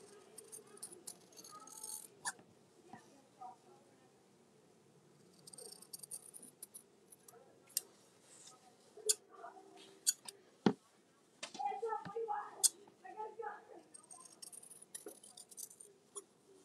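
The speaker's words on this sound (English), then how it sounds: "now I will use my scissors and I'll trim away two corners at a time" Scissors snip repeatedly through fabric corners of an apron pocket piece, quiet crisp cuts with short pauses between, close up in a calm sewing room.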